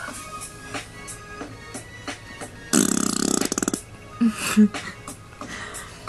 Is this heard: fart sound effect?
yes